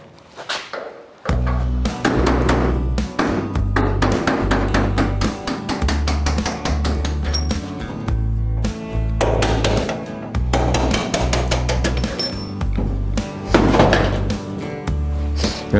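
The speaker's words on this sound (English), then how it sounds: "And now I'm going to knock the pins out." A hammer knocks hinge pins out of a 1951 Chevy truck door: a long rapid series of loud, ringing metallic blows, tightly spaced in bursts with brief pauses, close and dominant.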